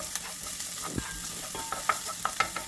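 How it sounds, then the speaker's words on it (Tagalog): Garlic and onion sautéing in a pan, a soft steady sizzle broken by spatula stirs and light scrapes at irregular moments, close and fairly quiet. "So magisa lang tayo ng bawang at sibuyas."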